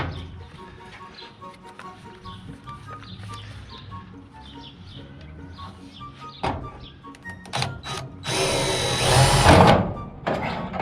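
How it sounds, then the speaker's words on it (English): A power drill bores a hole for the trunk latch on a 1969 Dodge Charger during a General Lee restoration. Quiet handling noises come first, then one loud, close burst of drilling near the end. "Drill a hole."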